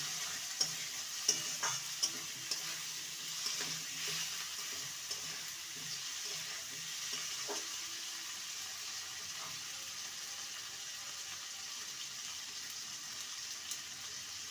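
Cut potato pieces fry in a pan with a faint, even sizzle throughout and a few soft clicks from stirring near the start, quiet and without speech.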